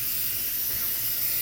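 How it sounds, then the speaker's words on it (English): White primer sprays from an aerosol can, a loud continuous hiss held for a brief burst, with no voices. "We're going to spray"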